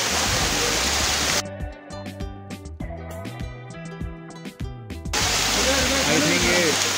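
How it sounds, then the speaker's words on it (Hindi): The Patna waterfall on Neelkanth Road near Rishikesh, running low on water, gives a steady broadband rush that is heard clearly at the start and again at the end, with a musical passage interrupting it in between. "दोस्तों फाइनली पहुंच गए वाटरफॉल"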